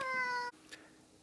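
A kitten gives one short, high, clear meow close by, then a faint brief sound and near quiet.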